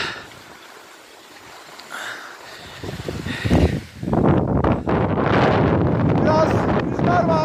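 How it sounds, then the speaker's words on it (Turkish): Wind on the Divan piste at the Erciyes ski resort buffets the microphone in loud gusty bursts that build and stay strong through the second half, with some speech mixed in. "Biraz rüzgar var."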